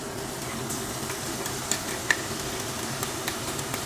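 Ground spices frying with melting tomato in a pan, a quiet steady sizzle with a few soft clicks of a spoon stirring, no voices.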